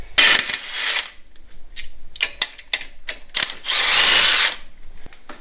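A ratchet working Jeep lug nuts loose while swapping tracks back to tires: close, loud bursts of clicking and whirring with metallic clinks between them.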